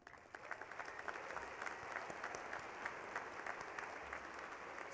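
A commencement audience applauds graduating arts and sciences students, a sustained, moderately distant patter of many hands with scattered sharper claps, steady throughout and free of talk.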